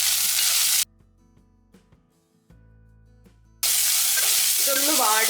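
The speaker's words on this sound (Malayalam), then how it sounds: "ഇനി നന്നായിട്ടൊന്ന് വഴറ്റി കൊടുക്കാം." Onion and salt sizzle hard in a pan for a fish curry, a bright frying hiss broken by a quiet gap with soft clinks of stirring before the loud sizzle returns.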